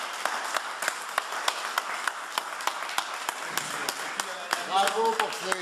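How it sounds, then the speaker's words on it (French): An audience at a note-by-note cooking event hosted by a chef claps in sparse, fairly regular, crisp claps. The claps run throughout, with voices murmuring and a person talking near the end. "Je vous propose d'applaudir Frédéric Jonot et Louis Schneider."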